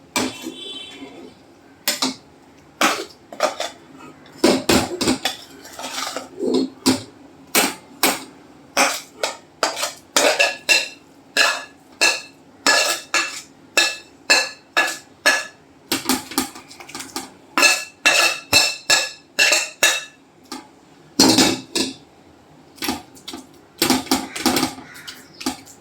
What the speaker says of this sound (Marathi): आणि हे मिश्रण आपण असं ताटामध्ये पसरवणार आहे.